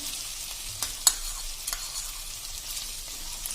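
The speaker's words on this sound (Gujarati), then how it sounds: "હવે આ સ્ટેજે આપણે એમાં જે 1 મીડિયમ સાઈઝનો કાંદો સમાર્યો છે ને એ આપણે એડ કરી દેશું" Chopped medium onion dropped into potatoes already frying in a pan for poha, giving a steady soft sizzle with a sharp clatter as the onion lands, then a few lighter stirring knocks.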